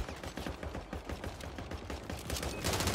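Rapid automatic gunfire rattles through a video game firefight, a dense, steady stream of close, loud shots with no pauses, ending in a louder burst.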